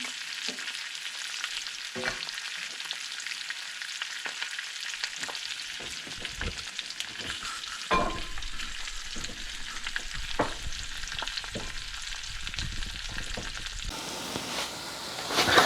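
Trout frying skin-side down in a hot pan, crisping the skin: a steady, continuous sizzle and crackle with occasional louder pops and stirring knocks, close and alone, with no voices.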